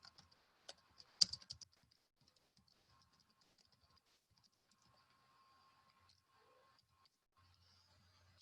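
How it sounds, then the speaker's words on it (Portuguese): Fingers tap a computer keyboard, a faint cluster of quick, light clicks near the start that fades to near silence with only scattered soft ticks after. "Eu vou digitar no chat."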